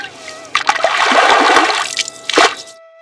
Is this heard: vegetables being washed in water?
yes